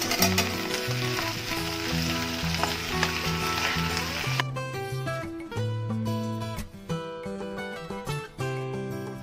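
Tomatoes being added to okra and green chili frying in a pan for a chutney, giving a loud continuous sizzle; partway through, a steady musical tone runs alongside the sizzling.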